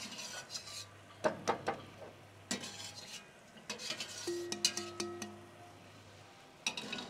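Mutton being stirred and fried with spices in a pot, with a spoon scraping and clinking against the metal in irregular bursts over a soft sizzle, close and moderately loud.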